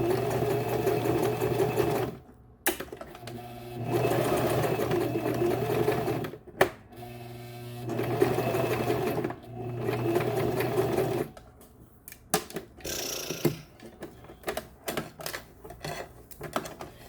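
A sewing machine stitches hair for a wig in bursts of fast, even needle chatter, stopping and restarting several times with short quiet gaps and small clicks between runs.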